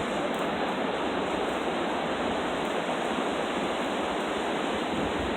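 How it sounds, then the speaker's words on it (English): Waves break along an ocean beach in a dense, unbroken roar of surf that stays steady and fairly close throughout, with no voices over it. "The waves. You can hear the waves."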